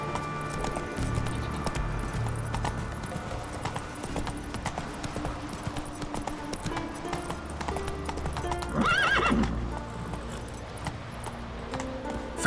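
Roach the horse trots along in The Witcher 3, hooves clip-clopping in a quick rhythmic patter with jingling tack, and a short whinny rises near the end.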